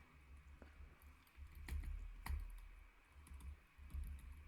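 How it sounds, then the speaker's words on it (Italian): Keys clatter on a computer keyboard as Command and arrow-key shortcuts are pressed, a few soft close clicks and taps in irregular bursts against a quiet room. "posso premere Command e le frecce della mia tastiera"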